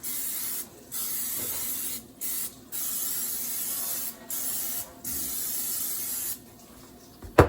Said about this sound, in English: I'm going to go ahead and spray these 2 pans.